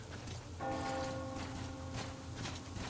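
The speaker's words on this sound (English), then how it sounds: "Do you hear that bell?" A bell rings out with a sustained metallic tone in the video game Metro Exodus, struck once and left to resonate over a soft rain-like ambient wash.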